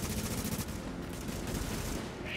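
Sustained rapid automatic gunfire from The Division on Xbox One, a dense continuous rattle of shots close and loud throughout.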